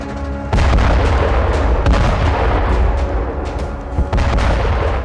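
A Bradley fighting vehicle fires in the Russia-Ukraine war, a loud, heavy stream of booming shots punctuated by sharper cracks, close and dominant with no talking.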